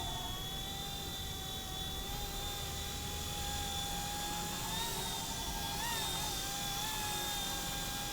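A small RC helicopter's high-pitched rotor whine buzzes steadily, wavering in pitch as it maneuvers and lands on a helipad, with a constant background hum and no talking.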